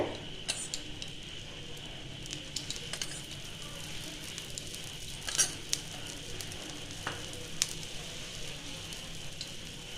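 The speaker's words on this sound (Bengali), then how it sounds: "এবার উপর দিকে একটু তেল ছিটিয়ে দিতে হবে।" A masala dosa on a pan over medium-low flame with oil sprinkled on top, giving a soft, steady sizzle with scattered tiny crackles and pops, quiet and continuous throughout.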